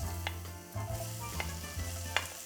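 Onion, carrots and celery sizzle loudly in shimmering hot oil, a continuous close hiss broken by a few sharp crackles and the scrape of stirring.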